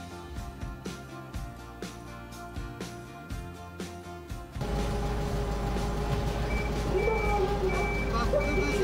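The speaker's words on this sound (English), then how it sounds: "Check backup alarm sound." A compactor truck's backup alarm beeps in a steady, regular series close by. Partway through, the truck's loud engine rumble comes in underneath the beeping.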